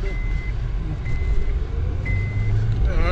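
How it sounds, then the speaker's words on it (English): Cars rolling through a busy Toronto mall district, a steady low traffic rumble with a few repeated reversing beeps cutting through. "See all these cars out here. A lot of cars."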